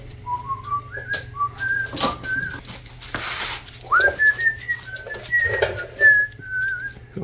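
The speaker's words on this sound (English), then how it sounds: "Oh, do you think I was whistling for you?" A person whistles a series of short, clear, rising and sliding notes in a loose melody, close and fairly loud, over a low steady background hum.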